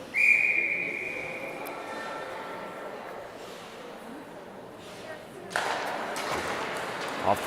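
A referee's whistle sounds once at an under-18 AA exhibition ice hockey game, a sustained shrill tone in the arena, followed by crowd and rink noise.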